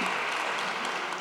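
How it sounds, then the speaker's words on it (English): A concert hall audience at Bridgewater Hall gives a brief, steady burst of applause, dense and even throughout, with no voices over it. "I think that's a round of applause for Bridgewater Hall."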